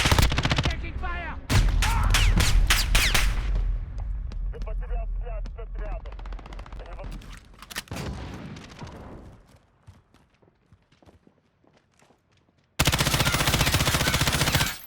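Automatic and rapid gunfire in the Call of Duty: Modern Warfare video game, loud, dense bursts that start and stop across the clip, with quieter gaps and a final heavy burst near the end.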